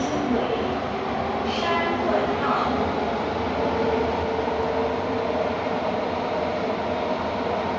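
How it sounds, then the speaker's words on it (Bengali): Rumbling ride aboard a metro train in Singapore, heading from VivoCity toward HarbourFront, a steady loud hum of rolling carriage noise filling the whole stretch with occasional brief higher tones. "আমরা ভিভো সিটি থেকে এখন মেট্রোতে করে ওয়াট্রাম পার্কে যাব।"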